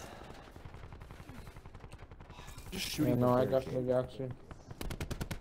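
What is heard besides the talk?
gunfire in a sniper video game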